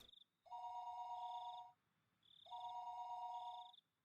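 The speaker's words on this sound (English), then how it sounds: "Phone rings again." An electronic telephone ring from the Higurashi When They Cry video game sounds twice in a steady rhythm, each tone burst lasting about a second, faint and alone without speech.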